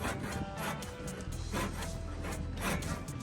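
A hand saw with wider teeth cuts a wooden handrail 40 mm in diameter, giving repeated rasping strokes about twice a second, close and fairly quiet.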